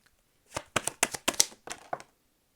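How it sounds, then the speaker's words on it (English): Tarot cards are shuffled by hand in a burst of crisp, rapid riffling clicks and slaps, close and clear, lasting about a second and a half with no talk. "I never really shuffle like that."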